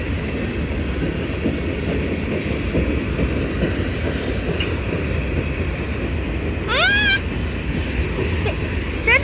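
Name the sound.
CSX train with four engines passing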